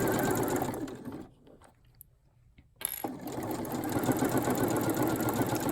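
A sewing machine stitches fabric with interfacing in a close, steady whir, pauses for about two seconds, then starts again at an even pace with no talk.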